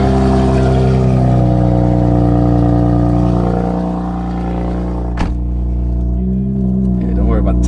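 A stock-turbo Infiniti Q50 sedan, lowered on air suspension, accelerating with a loud, steady engine drone and rising whir that dips briefly, then surges again; voices talk over the engine noise throughout.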